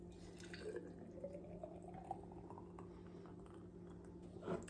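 Thick smoothie pours and glugs quietly into a container, with a low steady hum underneath and a small splash at the end.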